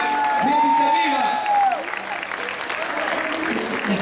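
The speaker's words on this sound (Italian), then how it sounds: "Ringraziamo lo sponsor, vi facciamo un applauso." Audience clapping for a sponsor at a live orchestra music event, a steady crowd applause running under a voice and a sustained tone.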